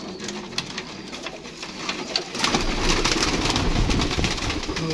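Golden pigeons coo and flutter close by in a loud, dense, continuous jumble of calls, growing fuller halfway through.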